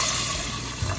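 Water poured into a pot holding steel cut oats, a steady close trickling and splashing wash that runs throughout, with a slight surge near the end.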